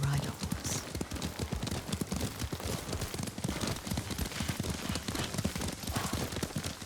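Horse hooves clip-clopping at a steady riding pace in Ghost of Tsushima, continuous and close, with voices talking over the ride.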